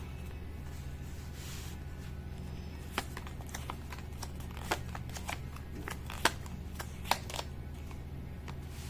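Tarot cards shuffled and tapped in scattered soft clicks and riffles, close and quiet over a steady low hum, with no talk.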